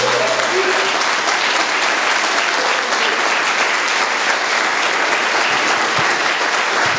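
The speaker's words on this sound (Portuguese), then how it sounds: "Quem é livre aí, dê uma salva de palmas." A church congregation breaks into loud, dense applause at a sermon, a continuous close wash of many hands clapping with no pauses.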